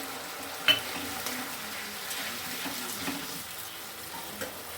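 Veg manchurian sauce sizzles in a pan as a little sauce water is added, a sharp splash at first and then a steady frying hiss with light stirring.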